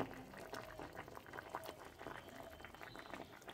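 Papaya pieces boiling in a pot of water for tutti frutti, rapid bubbling and gurgling at close range, quiet with no talking.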